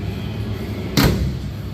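A single solid clunk as the door of a 1948 truck is opened by its handle in a workshop, one short loud latch thud standing alone against a steady background hum.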